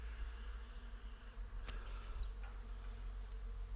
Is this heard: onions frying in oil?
no